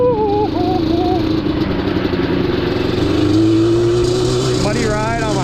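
A Yamaha Banshee ATV engine drones loudly and steadily on a muddy ride at an ATV park, with its pitch climbing in a rev near the end. Someone talks over the engine noise.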